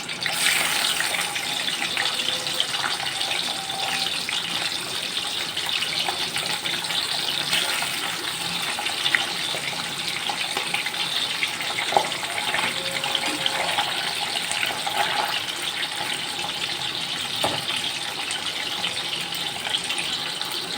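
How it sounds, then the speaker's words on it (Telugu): Fish frying in hot oil in a pan, a steady broadband hiss and sizzle that carries on continuously and fairly loud with no talking. "చూడండి, చేపలు ఇప్పుడు వేగుతున్నాయి."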